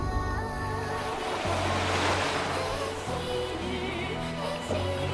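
Waves crash and surge against a rocky shore in the video game Snowbreak: Containment Zone, a continuous loud wash of surf blended with sustained game music and low wind-like noise.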